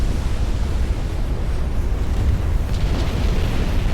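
Broadband booming roar of battleship turrets firing together in a naval game set in 1890, a sustained heavy rumble with rolling low-end blasts and no talk over it.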